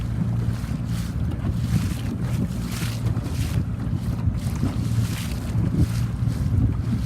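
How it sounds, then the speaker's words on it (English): Strong wind roars steadily over a C420 sailboat racing at a regatta, with rushing water and hull noise beneath and no voices. "There's plenty of wind here, guys."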